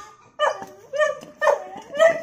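Puppies bark in four sharp, yelping bursts spaced about half a second apart, close and loud, with some whimpering tone between them.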